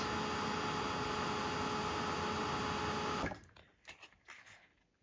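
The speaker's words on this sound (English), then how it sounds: "Gonna get our heat gun, let it run for a second to warm up." A heat gun runs to warm up with a loud, steady blowing hiss and hum for about three seconds, then cuts off, leaving faint handling clatter.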